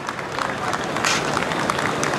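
Crowds lining the London streets applaud as Margaret Thatcher's funeral hearse passes; a broad, steady wash of distant clapping and crowd noise continues throughout without a break.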